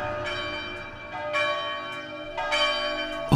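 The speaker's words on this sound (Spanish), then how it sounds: "¿Oyes cómo repican las campanas?" Several church bells ring together, bright overlapping peals with fresh strikes every second or so, loud and sustained without any talking.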